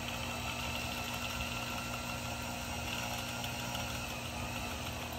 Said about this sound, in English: I've got this spinning spool chucked up in the power wrapper here